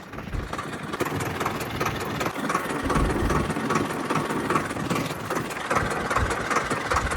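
A diesel tractor engine running steadily at a constant idle-like drone, close and fairly loud, with no talk over it.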